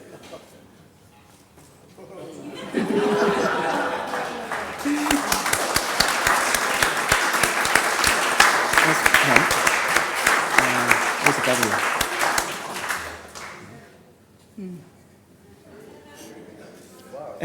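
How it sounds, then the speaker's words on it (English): An audience at MarcelFest claps in warm applause that swells and holds for about ten seconds before fading, with people talking under and after it. "That's a nice applause."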